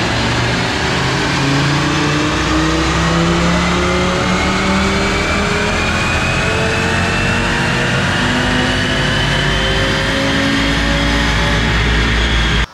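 A car on a dyno pulls hard on Shell V-Power Nitro Plus 93 octane fuel, its engine revving continuously through the gears with rising pitch, loud and close throughout.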